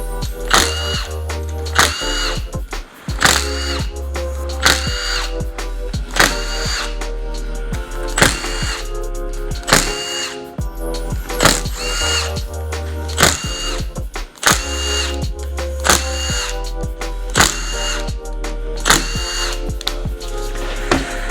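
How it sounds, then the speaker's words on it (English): Power tool whirring in repeated bursts as 8mm bolts are backed out of the flywheel-side engine cover on a Yamaha YFZ450R quad, loud and close with short pauses between each bolt. "just a bunch of 8mm bolts that go around it, so you can just unscrew those."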